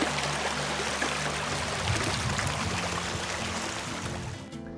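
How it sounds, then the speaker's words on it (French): Water of a stream runs steadily beside a hiking trail in Northern Ontario, a dense rushing wash with low tonal hum beneath, continuous and fairly close, ending abruptly. "there's a stream"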